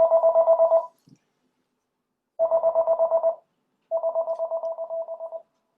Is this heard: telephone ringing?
yes